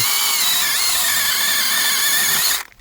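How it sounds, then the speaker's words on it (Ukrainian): A chainsaw with an old, worn chain cuts into a young apple tree, a loud, steady, close buzzing whine that runs nearly three seconds before cutting off abruptly. "ріже ніби непогано. І це при тому, що тут вже цеп старенький."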